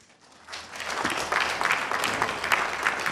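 Audience applause at an engineering institute event, rising quickly after a quiet start into steady, full clapping from a crowd.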